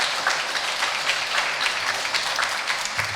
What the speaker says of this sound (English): If we could have a round of applause for the